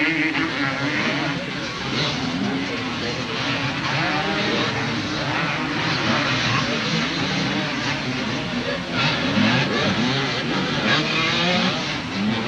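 Motocross racing with a Honda Canada CR250 close behind the leader: a steady blend of two-stroke engines revving at a distance, under a race commentator's continuous talk.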